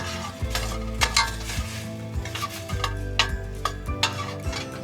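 Garlic and corn sizzle steadily in a pan for an enchilada quinoa dish, with repeated scraping strokes of a utensil stirring through the frying, close and fairly loud with no talking.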